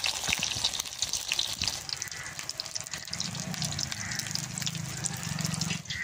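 Duck egg fritters wrapped in pumpkin leaves fry in a pan, with a continuous close sizzle and scattered pops and crackles over several seconds and a slightly bubbling, watery edge.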